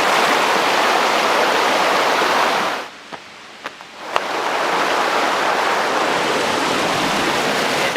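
Gong Chao Waterfall on Koh Kood Island, a loud continuous rush of falling water that drops away briefly mid-clip with a few clicks before the roar returns.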